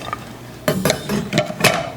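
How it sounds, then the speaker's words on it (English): A serving dish set down onto a bundt cake pan gives a few clear clinks and knocks of dish against metal pan, close by and moderately loud, spread over about a second. "put it on top of your bundt cake pan"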